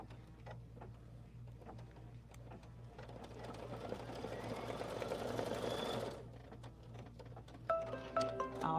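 An embroidery machine tacks fabric in place with a steady, quiet rapid stitching patter over a low hum, swelling in the middle, then a few brief beeps near the end.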